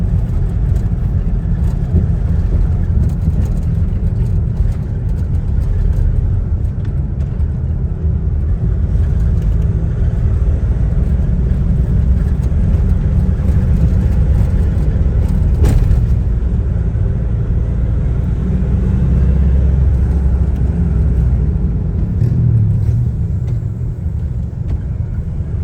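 A car drives on a highway between Katipunan in Quezon City and San Jose del Monte, Bulacan, with a steady low engine and road rumble throughout and no voices.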